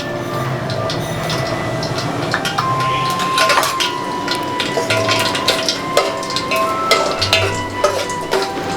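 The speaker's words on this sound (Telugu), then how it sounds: "ఆయిల్ కొద్దిగా వేడెక్కాక ఇందులో తాలింపు గింజలు వేసుకోవాలి" Tempering seeds crackle and pop in hot oil in a pot for tomato rasam, sharp scattered snaps mixed with metal clinks of a spoon against the vessel in a home kitchen.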